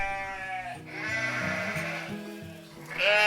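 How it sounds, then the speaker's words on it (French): Sheep bleat as a sound effect, several drawn-out wavering baas one after another, loud and close, with a final higher-pitched bleat at the end, no speech over them. "Bon, ça suffit les moutons là."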